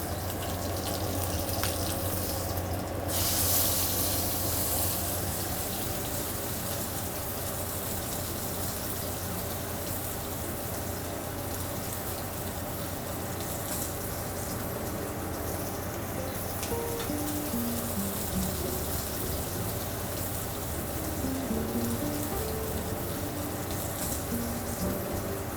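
Beef for Beef Wellington sizzles in a hot pan, a steady, dense hiss that holds evenly throughout with no talking.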